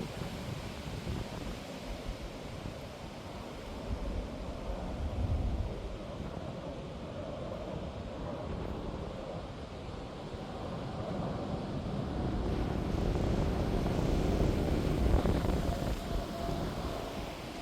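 A KLM Boeing 777 takes off from the Polderbaan runway at Amsterdam Schiphol, heard as a steady, distant jet roar mixed with wind rumble that gradually swells toward the end.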